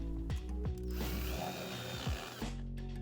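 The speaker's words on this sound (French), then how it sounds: "maintenant on va pouvoir visser, sachant que j'ai déjà fait des trous au préalable" A handheld screwdriver drives screws into pre-drilled holes while setting up an art studio, giving a loud close-up whirring and ratcheting motor sound in bursts with short pauses.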